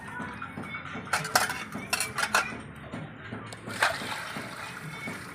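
Dishes being washed by hand with running water, plates and cutlery clinking and splashing in an irregular clatter close by, no talk over it.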